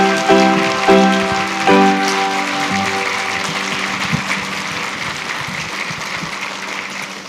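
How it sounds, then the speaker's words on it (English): An audience at a Burns Night event claps for a group of Scottish dancers, starting with a loud burst of applause that gradually thins into lighter scattered clapping, with a few low tonal notes early on. "let's give them a round of applause"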